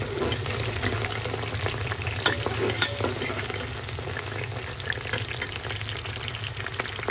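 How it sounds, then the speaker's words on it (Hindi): Onions fry in a pan until brown, giving a continuous, fairly loud sizzle with occasional stirring clicks and no voices throughout. "तो देखिए इसमें हम डाल देते हैं प्याज, और प्याज को करेंगे ब्राउन।"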